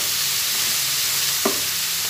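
Cut eggplant and tomatoes sizzle steadily in a pan, giving a continuous hiss, and a single brief scrape of stirring comes near the end.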